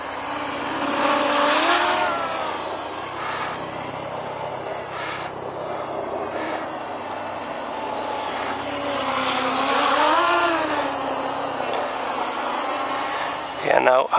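An AO SenMa CG035 drone flies in manual mode with a steady, loud rotor whine whose pitch rises and falls with throttle changes, and a louder bump comes near the end.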